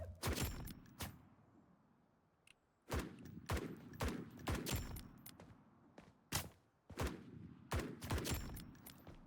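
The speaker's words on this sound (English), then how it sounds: "They are shooting at me, but they haven't alerted anyone" Enemy gunfire in the video game Blackhawk Rescue Mission 5: sharp, loud shots in uneven bursts and single cracks, some close together, across a short lull, with no talking.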